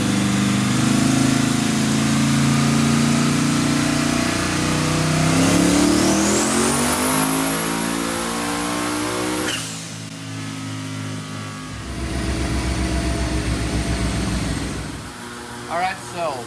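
Turbocharged car engine on 17 psi of boost pulls hard through third gear, revving steadily up to about 7,500 rpm with a rising whine, then cuts off abruptly and falls back to a rough idle, loud and close.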